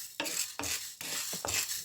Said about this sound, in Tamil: கொஞ்சம் அந்த உளுந்து வாசனை வரும் வரையும் வறுத்து எடுத்துக்கொள்ளுங்க